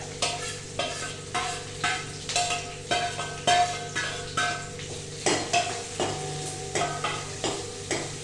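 Chopped onion and green chilli pieces sauté in a pan for masala dosa filling, with steady frying sizzle broken by repeated rhythmic scrapes and clinks of a spoon stirring against the metal, close and clear.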